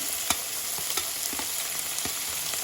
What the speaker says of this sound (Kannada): ಈರುಳ್ಳಿ ಚೆನ್ನಾಗಿ ಫ್ರೈ ಆಗಬೇಕು ಈರುಳ್ಳಿ ಸ್ವಲ್ಪ ಫ್ರೈ ಆಗ್ತಿದ್ದಾಗೆ ಹೆಚ್ಚಿಟ್ಕೊಂಡಿರೋ ಟೊಮೆಟೊವನ್ನು ಹಾಕ್ಕೊಳ್ತೇನೆ